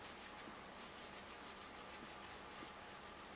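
Cloth wiping excess grease off handgun parts during assembly of an Infinity pistol, a soft, steady rubbing swish that repeats faintly and close with no voices.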